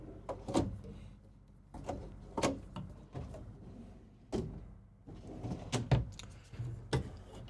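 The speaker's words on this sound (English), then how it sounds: "These are a little bit shallower drawers." Shallow drawers, about 4 to 5 inches deep, in the kitchen of a 2026 Renegade Explorer 40ERB motorhome slide open and shut with a series of close wooden thuds and bumps. No one speaks.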